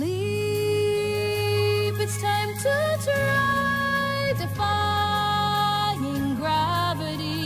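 Short trimmed excerpt of a song with singing over steady backing instruments, played back from a PowerPoint slide, continuous and fairly loud with vocal phrases shifting in pitch.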